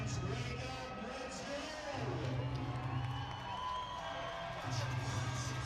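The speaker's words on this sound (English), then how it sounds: "Starting to hear some noise in the Dome." Steady crowd roar fills the Dome at a high school football game between the Elks and the visiting Snowflake Lobos, swelling in waves with voices mixed through it.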